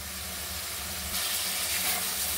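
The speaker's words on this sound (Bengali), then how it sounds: "মশলাটা ভালো করে আমি কষিয়ে নেব।" Ground turmeric, chili and coriander powders frying in oil in a pan for a thin hilsa fish curry with potatoes, a steady broadband sizzle that swells louder halfway through, with no talking.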